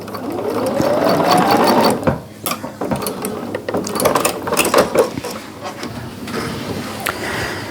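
A sewing machine stitches an economy quilt block, running loudly and close with a continuous mechanical clatter that slows and speeds up in spurts, with a voice speaking briefly in between.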